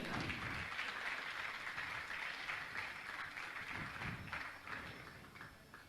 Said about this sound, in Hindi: जोरदार ताली बजाकर का सम्मान करें।